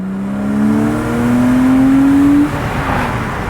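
A Porsche 987.2 Boxster base model revs hard, its engine note climbing steadily for a couple of seconds before easing off and settling into a steady drone, loud and close with no talk over it.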